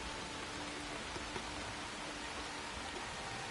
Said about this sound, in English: It is raining like a motherfucker